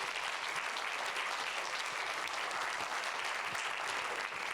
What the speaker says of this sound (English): Let's do one final round of applause for everyone.